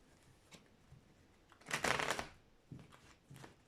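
Tarot cards are shuffled and laid out, a quiet riffle with one louder burst in the middle flanked by soft taps and slides of cards.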